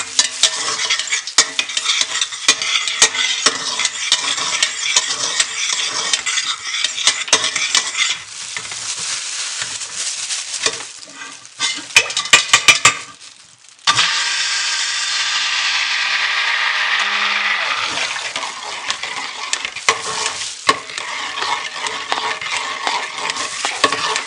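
Continuous wet swishing and churning of soap batter being stirred to emulsify, loud and steady, with a brief pause midway before the mixing resumes at a similar level.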